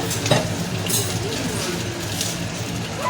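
Mutton stew being stirred and fried in a pot, with a spoon scraping and clinking against the metal over a low, steady sizzle, close and moderately loud.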